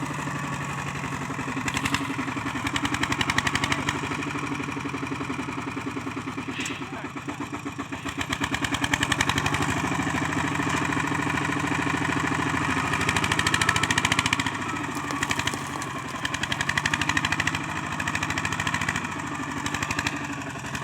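A farm tractor's diesel engine chugs steadily nearby with a rhythmic, rumbling idle that rises slightly in places, while a voice speaks over it.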